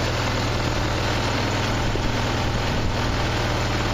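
A Mazda 626 engine idles at around 1300 RPM, a steady, loud and continuous hum with a low rumbling vibration and no voices, recorded close by.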